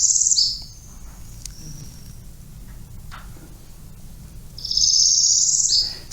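A songbird along the Wabash River sings a fast, high trill that rises and falls, two loud bursts, one at the start and one near the end, separated by quiet ambient hum.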